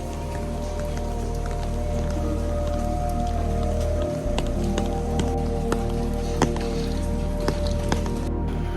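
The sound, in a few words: rain falling on the streets of Jiufen, Taiwan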